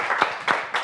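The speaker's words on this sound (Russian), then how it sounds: "Аплодисменты не прекращаются." Applause from a television studio audience as a guest singer is welcomed onto a talk show, heard as a short burst of broadband clapping pulses, fairly loud and close.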